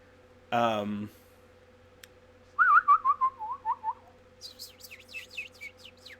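Birds call inside a cave as ambience for a tabletop role-playing game. A short voiced sound comes first, then a falling whistled trill and a run of quick, high chirps.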